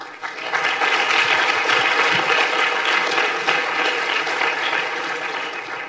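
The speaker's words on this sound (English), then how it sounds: "I think you guys deserve a round of applause for yourself." Sustained, loud applause from a keynote audience at a conference, a steady wash of many hands clapping together from start to finish, with no talking over it.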